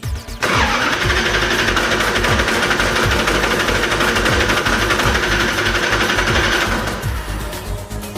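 A car engine cranks steadily on the starter with the throttle held wide open during a compression gauge test, a loud, even rhythmic churning that runs for about six seconds and then stops.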